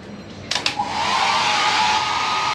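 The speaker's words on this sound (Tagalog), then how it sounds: "Hair dryer nga yan mga pangat." A hair dryer switches on after a couple of sharp clicks and then blows a loud, steady whoosh with a constant motor whine that holds for about two seconds before cutting off abruptly.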